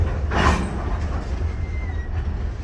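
Steady rumble of a train rolling along the tracks, a continuous low drone with a faint metallic squeal partway through.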